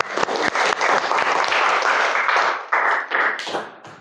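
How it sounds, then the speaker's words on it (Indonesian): Students in a social studies classroom break into brisk, close-up applause, a dense crackle of many hands with short dips and restarts over about four seconds before trailing off. "kita boleh tepuk tangan dulu buat semuanya"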